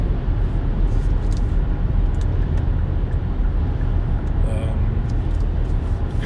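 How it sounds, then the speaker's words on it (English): A car cruising along a highway at 120 km/h fills the clip with loud, steady road and wind rumble that does not let up. "I am going down the highway at 120 kilometers an hour."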